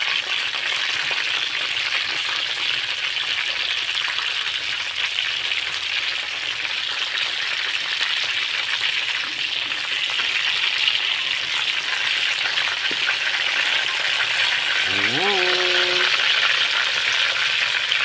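Chicken pieces frying in hot oil, giving a steady, loud sizzling hiss that runs unbroken throughout, with one brief ringing clink near the end and no talking.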